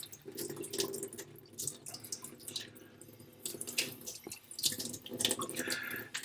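Warm water from a tap runs during knife sharpening with a tomo nagura stone, heard as close, irregular splashing bursts that rise and fall throughout, with no speech.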